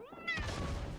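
A pet cat gives one short, rising meow close to the microphone, quickly swamped by a loud broadband crash from a Rising Storm 2: Vietnam game.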